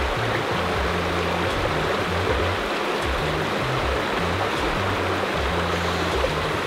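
A small trout creek runs steadily over its bed, a constant close rush of moving water with no pauses, carrying a faint low hum underneath throughout.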